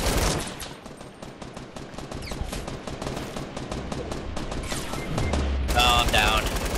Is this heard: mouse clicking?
no